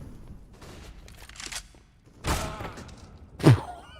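Bursts of simulated gunfire in a professional esports shooter match at a Latin American quarter-final tournament, with two loud volleys about a second apart standing out above a steady, busy game-audio background.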